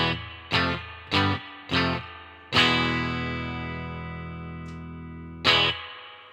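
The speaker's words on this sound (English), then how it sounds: "as I bring some of the reverb in, it really starts to bring the amp to life" Electric guitar played through an amp with spring-style reverb dialled in: four short plucked chords, then a sustained chord ringing out with a long reverb tail, and one more struck chord near the end.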